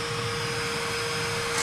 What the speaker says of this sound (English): So I'm gonna get the vacuum out now and just try and vacuum and clean out all that dirt